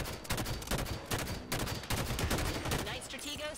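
Rapid bursts of Halo 5 fuel rod gun fire in a Warzone match, loud repeated blasts in quick succession with brief gaps, mixed with other game noise.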